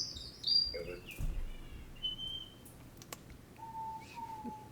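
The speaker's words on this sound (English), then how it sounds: "I think that's a strawberry finch" Pet strawberry finch giving several short, thin chirps and whistled notes, spread irregularly over a quiet indoor background with a faint hum.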